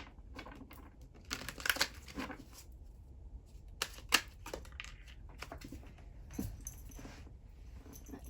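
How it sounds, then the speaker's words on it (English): Soft, quiet tarot card shuffling with papery riffles and a couple of sharper flicks, close up, with no one speaking. "I didn't get a proper shuffle there"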